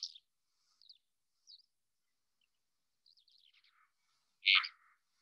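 A small songbird in Great Britain, one that rises high to sing and then drops back to a post, gives a string of thin, high chirps and twittering phrases, ending in a louder burst near the end, with no other sound around it.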